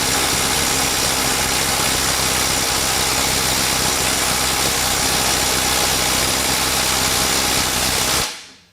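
A Skil IW5744 12V impact wrench hammers steadily on a stubborn bolt, one dense continuous rattling blast lasting about eight seconds, loud and close, then cutting off abruptly.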